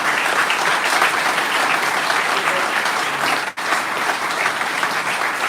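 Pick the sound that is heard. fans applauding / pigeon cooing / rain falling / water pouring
fans applauding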